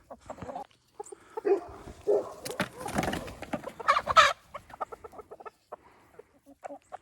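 Backyard chickens cluck and squawk in bursts as they are fed eggs, with a dog barking among them and a person speaking briefly, all close and lively against quiet gaps.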